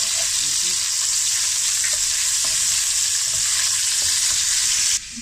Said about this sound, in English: so we're going to cook the meatballs.